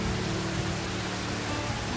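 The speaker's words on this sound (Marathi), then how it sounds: "चांगला जोरात असा पाऊस पडतोय." Heavy evening rain falls steadily outdoors, a dense, even hiss of downpour with no breaks, moderately loud and continuous throughout.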